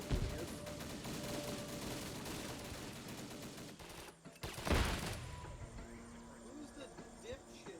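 Sustained bursts of rapid small-arms and automatic gunfire from a Vietnam-era Indochina battle in a military shooter game, dense and continuous, with a louder crack or blast near the middle and a voice talking over the combat.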